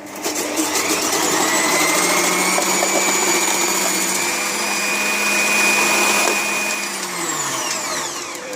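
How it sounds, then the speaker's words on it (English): A Silvecrest food processor from Lidl, fitted with a shredding disc, shreds celery. Its motor gives a loud, steady whir with a high whine that runs unbroken for the whole stretch, with no talking. "I need coarse shredder for the celery."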